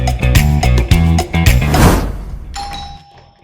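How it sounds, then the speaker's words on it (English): A doorbell chime rings out amid a dense burst of musical, clattering sound, then a few sustained tones linger and fade into quiet. "Why are you ringing my doorbell"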